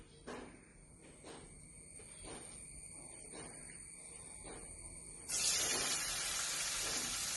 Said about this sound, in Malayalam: അതിലേക്ക് നമുക്ക് കുറച്ച് സവാള ഇട്ട് വെക്കാം.